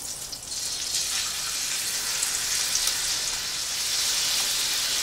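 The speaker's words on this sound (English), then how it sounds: "Now I'm going to just place the cutlets into the pan." Turkey cutlets sizzling steadily in a hot pan over a medium-high flame, a dense, even frying hiss that holds at a consistent level throughout with no talking.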